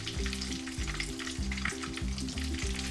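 Potato and shrimp snacks fry in hot oil over medium-low heat, a continuous crackling sizzle with a low rhythmic stirring or bubbling pulse running steadily underneath, close and alone.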